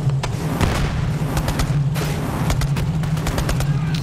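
Rapid gunfire from Borderlands 3 rings out in repeated sharp bursts over a steady low rumble, with booming shots dense and loud throughout.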